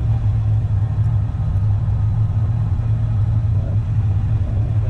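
A 1986 coupe's engine runs on stock 14-inch intake runners, giving a steady, loud low rumble held at an even pitch for the whole stretch, with no voices.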